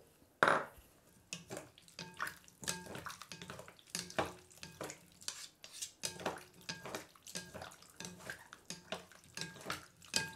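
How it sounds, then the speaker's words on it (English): Spoon scraping and clinking against a bowl while chives are stirred into potato salad, a run of soft, irregular strokes that continues steadily at close range. "You stir it in really good."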